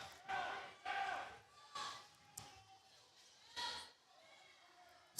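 A crowd cheers in a college basketball arena, with several surges of roaring noise and a sharp slam-like hit in between. The sound is faint and distant, and a commentator speaks over it.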